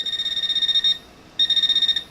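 A Garrett PRO-Pointer AT metal detector pinpointer gives two bursts of rapid, evenly pulsed high-pitched beeps, loud and close, separated by a short silent gap.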